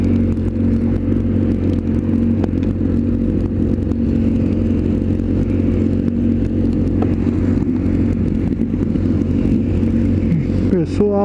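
Motorcycles arrive at a roadside stop beside a police post, their engines rumbling and idling close by in a steady, continuous mix, with clattering and a brief rising rev near the end, under light background voices.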